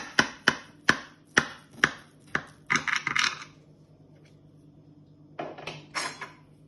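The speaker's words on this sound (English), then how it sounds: "I'm just gonna get my knife. I'm gonna cut here." A knife cutting into a homemade cottage pie and tapping the dish, a run of sharp, evenly spaced clinks near and clear, then a short scraping burst, a pause and a couple more scrapes, with no talk.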